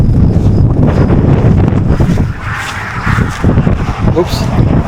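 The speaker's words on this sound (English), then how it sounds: "Oh wow, it's windy." Strong wind buffets the microphone outdoors at the Little Grand Canyon in Wauneta, Nebraska, in loud, rumbling gusts, with a person talking over it.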